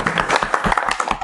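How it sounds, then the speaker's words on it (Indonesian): A classroom group claps briefly during an Islamic religious education lesson, a quick close burst of uneven hand claps. "Tepuk tangan, Mas Ayu."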